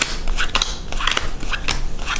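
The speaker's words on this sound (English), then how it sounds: "now I shuffle the deck" A deck of cards for the Xenofera tabletop game is shuffled, giving loud, close riffling bursts and papery snaps in quick uneven clusters, with no talking over them.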